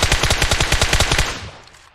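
Rapid automatic gunfire from the video game PUBG Mobile, a loud close burst of about a dozen evenly spaced shots that stops and rings out into a fading tail.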